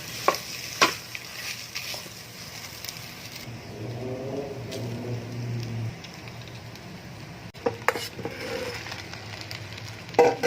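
Cooked rice mixed with tomato sauce is stirred and tossed in a hot pan for seafood fried rice, with steady sizzling and occasional sharp scrapes and clanks of the spatula against the pan.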